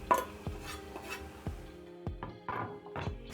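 Several sharp clinks of a utensil against a pot while stirring omena with coriander, spaced irregularly, with soft scraping between them, close by and moderately loud.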